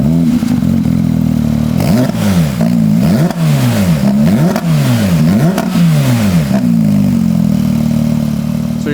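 A Porsche 992 GT3 RS fitted with a JCR titanium valved race exhaust is revved hard several times in quick succession, loud and close, each rise and fall sharp and raspy, then settles to a steady idle.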